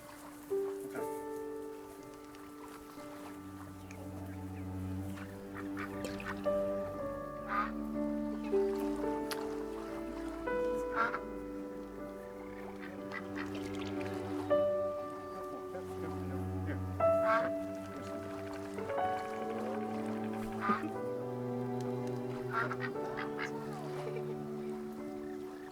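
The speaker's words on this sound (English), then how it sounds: "Don't touch the birds." Ducks quack repeatedly at a pond in the video game That Dragon Cancer, where bread is being thrown to them. Scattered calls sit under a gentle musical score, and voices talk over the scene.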